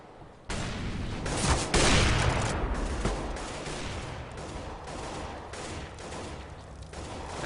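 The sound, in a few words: gunfire in Counter-Strike video game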